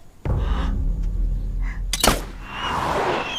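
A signal arrow launches with a sharp whoosh and a crack, followed by a rushing, hissing trail that fades into the distance, over a low steady rumble.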